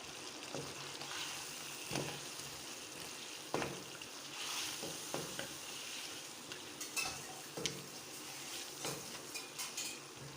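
Steady sizzling of mutton chops frying in a pan with ginger-garlic paste, with occasional scraping and stirring clinks from a utensil; no talking.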